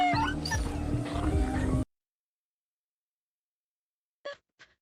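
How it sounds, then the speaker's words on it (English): A puppy in a video game whimpers and yips in high, wavering cries, then goes silent, followed by two brief faint whines. "Oh, the puppy cried. Oh, the poor puppy was sad."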